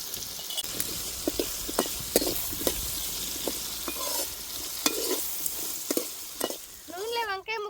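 Brinjal pieces fry in oil with turmeric, giving a quiet continuous sizzle broken by regular spoon scrapes and taps against the pan, heard up close with no talk.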